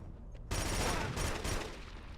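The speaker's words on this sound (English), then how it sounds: "Under heavy fire." Heavy gunfire in the video game Killzone 2, a sudden dense burst of rapid automatic fire that holds as a continuous roar for about two seconds, no talking.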